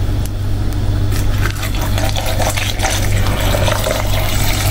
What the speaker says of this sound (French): Je vais juste rajouter de l'eau.